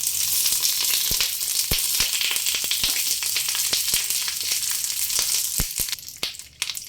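Banana-leaf wrapped bhetki fish paturi sizzling on an oiled tawa, a continuous loud close frying hiss with scattered sharp crackles and pops throughout.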